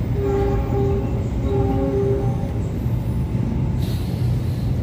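A loud train rumbles past at close range, its heavy low roar steady throughout with brief tonal squeals or horn-like notes rising above it, strong enough to shake the ground.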